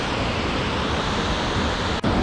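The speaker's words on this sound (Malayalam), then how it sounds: "ഇതൊരു ഹിഡനായിട്ട് കിടക്കുന്നൊരു വാട്ടർഫോളാണ്" Water rushes steadily at a hidden waterfall near Ottamala, Kanthalloor, a dense continuous roar close by with a brief dip near the end.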